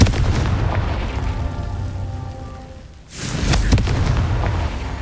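Confringo explosive spell in the game Hogwarts Legacy, a booming blast that fades into a brief lull before a second loud burst of rumbling debris and crackle.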